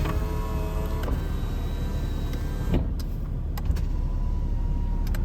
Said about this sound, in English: But windows all work.